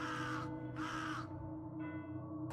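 Crows caw loudly and close by in Pitch-black crows caw loudly and close by in two harsh calls, each roughly half a second long, then a fainter, shorter caw follows. Steady low background hum runs throughout, with no talking.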